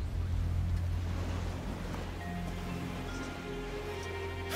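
A ship at sea in an animated cartoon, with a steady low rush of ocean waves and wind, a continuous moderate wash with no talk.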